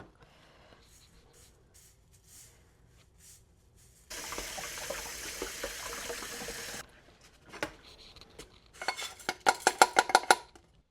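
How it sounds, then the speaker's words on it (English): Dishes are washed in a kitchen sink: a steady gush of running tap water for a few seconds, surrounded by clinks of cutlery and clattering dishes, growing busier toward the end. "I was going to get caught up on some dishes, try and get my kitchen a little cleaned up"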